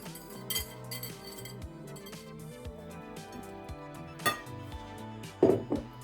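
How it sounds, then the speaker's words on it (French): A whisk stirs Congolese donut batter in a bowl, giving a few sharp metallic clinks against the side, the loudest near the end, over steady background music. "Et maintenant, je continue à touiller."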